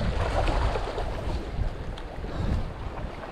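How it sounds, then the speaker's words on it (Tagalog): Strong wind buffeting the microphone on a sandy shore, with low roaring gusts and a surf-like rush swelling and easing without a break. "Malakas lang ang hangin."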